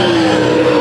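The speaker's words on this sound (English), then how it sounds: "Last heat race for the late models." Late model race cars roar past at Bakersfield Speedway during a heat race, a loud, dense, sustained engine drone close by with no talk.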